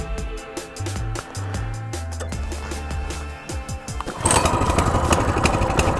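A Coleman CT200U pit bike engine, around 5 or 6 horsepower with the choke on, cranks briefly, catches and starts, then settles into a loud, close, rough-running idle.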